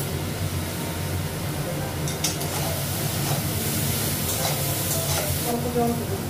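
Ginger paste frying in a hot pan with a cumin-spiced base, giving a steady broadband sizzle and hiss with a few light scraping stirs, close and continuous.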